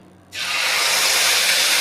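Spices hit a hot pan for steamed hilsa fish with a sudden loud sizzle that starts sharply and keeps hissing steadily to the end.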